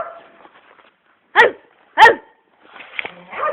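Two sharp, loud bark-like bursts about half a second apart, made by a human voice imitating a dog's barking for a dog named Roki, with soft murmuring talk before and after.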